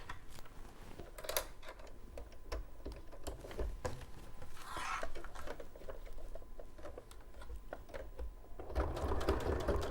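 A sewing machine stitching fabric during a quilting session, running in short bursts of rapid mechanical clatter with brief pauses between them, fairly close and moderately quiet.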